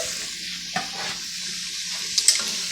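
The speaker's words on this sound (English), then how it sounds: "I'm going to go ahead and drain this here water out of this pot here." Water drains out of a cooking pot in a home kitchen, a steady rushing hiss of pouring liquid with a couple of small clinks.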